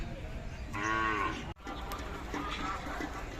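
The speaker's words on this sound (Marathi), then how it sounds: "अशा प्रकारच्या जुन्यातल्या खिल्लार गाई आलेल्या आहेत पाहू शकता" A Khillar cow at a livestock fair at Umadi in Jat taluka moos once, long and loud with a rising, drawn-out tone, over a steady outdoor crowd murmur.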